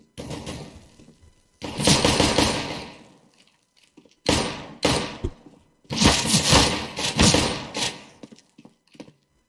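Gunfire in the video game Counter-Strike: Global Offensive comes in loud bursts, several rapid volleys and a few single heavy shots separated by short quiet gaps, with no talk.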